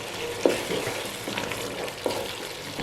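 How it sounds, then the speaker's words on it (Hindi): Masala spices fry in a pan for a hotel-style mixed vegetable curry with chicken stock cube added. A steady, close sizzle carries a few sharper stirring scrapes and no speech. "तो मसाले को अच्छी तरह भूनना है हमने, 2 से 3 मिनट मज़ीद इसको भूनेंगे"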